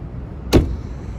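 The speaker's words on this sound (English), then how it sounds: "Close that door." A single solid thump as the door of a 2004 Citi 1.6i car is shut, close and fairly loud, over a low background hum.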